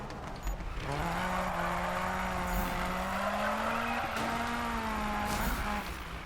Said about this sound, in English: Just pop it into a slide and then this thing just goes sideways. Like it's so easy to drift.